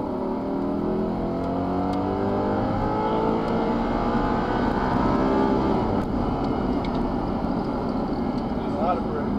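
An Audi R8 V8 accelerating hard on a race track, its engine a loud, constant roar with rising tones that fills the whole stretch from inside the car.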